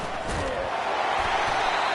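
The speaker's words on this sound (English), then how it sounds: "It is getting loud as this crowd tries to help its defense." A loud college football stadium crowd roars steadily as it cheers to help its defense, a dense continuous wall of noise with no breaks.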